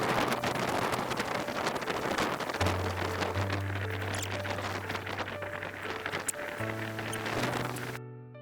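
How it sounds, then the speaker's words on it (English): Wind blowing through a forest wild camp, rushing and buffeting the microphone steadily while a tonal hum drones underneath, with no talking heard. "You can see it's pretty windy,"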